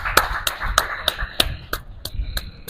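Clapping from an audience at a tourism press conference, heard as a series of sharp, separate claps in a fairly regular rhythm, close and moderately loud.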